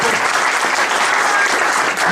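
A church congregation applauds steadily and loudly during a Sunday service, a dense wash of clapping that stays even from start to finish with no pause.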